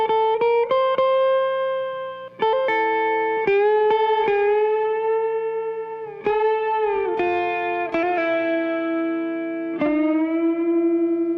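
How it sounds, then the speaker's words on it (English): A synthesized melodic line is played repeatedly with a doubler plugin switched off and on, giving sustained bright tones in a series of distinct note attacks with no talking. "now look at what happens when I turn on this doubler plugin"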